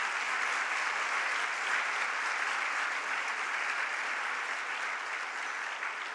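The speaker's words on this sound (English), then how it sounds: "a big round of applause, if you don't mind, for all of our sponsors today" A luncheon audience applauds its sponsors: dense, even clapping from a large crowd, sustained and fairly loud for the whole stretch with no voices on top.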